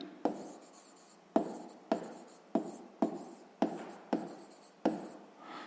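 Pen writing in a maths notebook, a series of about eight short scratchy strokes, each starting sharply and trailing off, close and fairly crisp in a quiet room.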